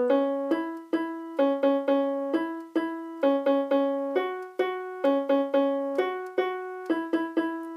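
Keyboard playing the pre-chorus melody of a Disney song as a clean single-note line, each note struck distinctly and decaying in a steady rhythm, close and alone without any talk.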